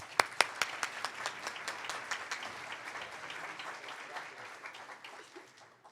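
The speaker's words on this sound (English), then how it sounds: "please give Carla a round of applause" Conference audience applauding, a dense crowd of claps that starts sharp and strong with a few loud near claps, then thins out and fades over about six seconds.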